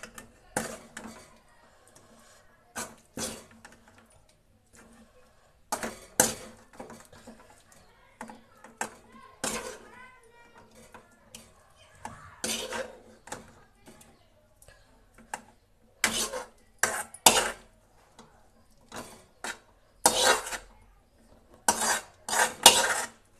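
Cooked liver fry is spooned from a pan into a bowl, giving repeated sharp metal clinks and scrapes of spoon on cookware in irregular bursts, close and moderately loud.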